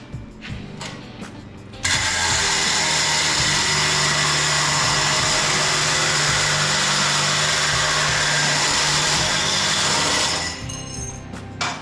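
A power tool cuts sheet metal for a '55 fuel door in one loud, steady, high whining grind lasting about eight seconds, preceded and followed by brief clicks and handling noises.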